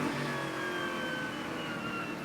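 A race car engine drones and revs unevenly on a very wet track, its pitch rising and dipping as the throttle is eased on and off, fairly loud and continuous.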